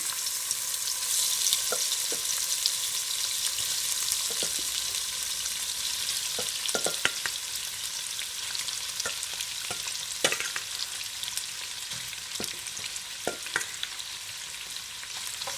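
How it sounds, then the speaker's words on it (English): Prawns frying in vegetable oil in a wok on a home cooker give a steady, loud sizzle with occasional crackles and pops throughout, no voices. "So I've got my little wok on my cooker with a little vegetable oil now"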